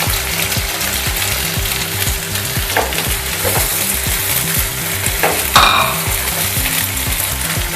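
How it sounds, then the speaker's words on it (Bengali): Chopped onions deep frying in hot oil in a pan, a loud, steady sizzle and crackle throughout, with regular stirring scrapes and one brief sharper splash of spatter. "এবার আমি পেঁয়াজ কুচিটা দিয়ে দিলাম। খুব ডিপ করে ফ্রাই করে নেব।"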